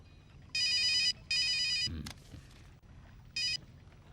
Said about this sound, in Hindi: भाई, दिल्ली से कुंदर परमार का फोन है।